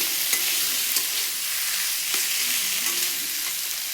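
Steady sizzling of food frying in a pan, a constant bright hiss with a few soft clicks of stirring, no voices.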